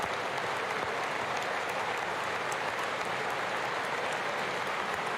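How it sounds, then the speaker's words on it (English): A packed chamber audience at the 2020 State of the Union applauds and cheers, a dense, continuous roar of clapping that holds steady and loud throughout. "Stand up and cheer for yourself"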